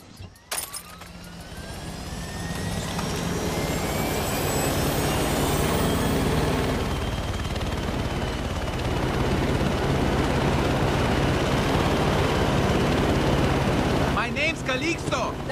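Helicopter rotor and turbine drone from a PS5 campaign mission game, a steady loud whirring wash running nearly the whole time with a brief jolt at the start and a sharper burst near the end.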